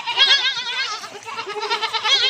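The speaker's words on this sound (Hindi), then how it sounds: "और ये बच्चे हैं माशाल्लाह, और ये बकरी।" Goats on a goat farm, including young kids, bleat close by in a continuous chorus of overlapping wavering cries.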